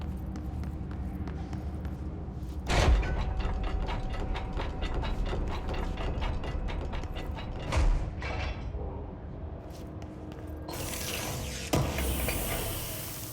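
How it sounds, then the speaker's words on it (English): Mechanical ratcheting and clanking machinery from a black rock powder deployment unit in the Control video game, steady clicking gears with a few louder thumps and a burst of spraying hiss near the end. "Black rock powder deployment unit. Okay, that's not a vacuum. It sprays black rock powder."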